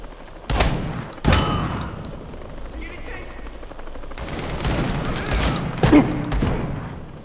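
Shotgun blasts in the VR game Planet of the Apes VR, two sharp loud reports early followed by more booming shots and clatter later, with scattered game noise between them.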